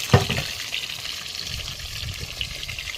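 Water splashes and pours into a pot of potato biryani cooking over a makeshift riverside clay stove, a short gush settling into a steady liquid wash with outdoor background noise.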